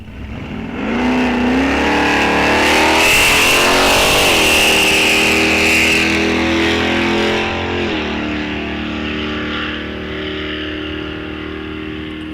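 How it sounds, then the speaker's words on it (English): Drag racing cars at Rock Falls Raceway accelerating down the strip, a loud engine roar climbing in pitch through several gear-like rises, then easing off as the car pulls away, with no voices. "these guys are hot lapping some of these cars"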